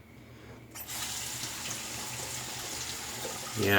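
Tap water starts running into a shaving bowl and pours in a steady, fairly loud stream, ending with a brief splashing surge.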